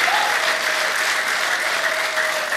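A church congregation claps together in steady, dense applause that fills the whole stretch at a moderate, even level, with a faint voice threading through underneath.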